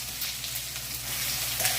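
Sesame seeds, cumin and ginger-garlic paste sizzle in hot oil, a steady close crackling hiss with a faint low hum beneath, no voices.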